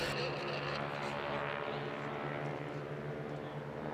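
Wingwalking display aircraft at a Plymouth Hoe Armed Forces Day flying past, a steady droning engine that holds fairly even and faintly fades toward the end, moderately distant, with no clear voices.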